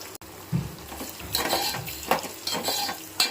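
Curry leaves drop into hot oil in a pan and crackle, with a short sizzle, some stirring and a few light clinks, close and moderate in volume.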